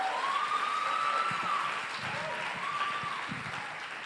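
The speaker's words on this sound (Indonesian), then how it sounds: "Tepuk tangan untuk Amway." An audience at an Amway business event claps steadily at a moderate distance, mixed with a wavering high tone that rises and falls in the background.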